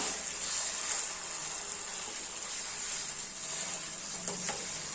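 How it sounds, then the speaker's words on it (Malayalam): Whole ripe plantain sautéing in ghee in a pan, a steady close hiss of sizzling with faint stirring and one small clink near the end, no voices. "ഇനി ഇത് നമുക്കൊരു രണ്ട് മിനിറ്റ് നെയ്യിലൊന്ന് വഴറ്റിയെടുക്കാം"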